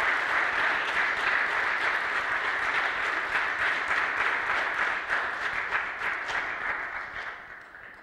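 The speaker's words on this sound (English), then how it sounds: "I'd like to ask you to give them a round of applause" A church congregation applauds confirmands during a Sunday service, sustained clapping from a crowd in a reverberant room that slowly fades toward the end.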